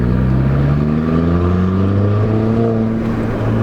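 An Audi A5 2.0 turbo with a tuned exhaust drives at steady cruising speed, a loud deep droning exhaust note heard from inside the car, engine pitch climbing slowly.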